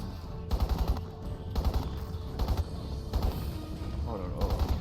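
Automatic gunfire in the shooter game Crysis, repeated rattling bursts of shots with deep low thumps, fairly loud throughout.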